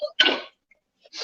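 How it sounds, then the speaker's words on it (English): A single sharp human sneeze bursts out close and loud, followed by a short silence and the start of another breathy sound. "And I gotta sneeze."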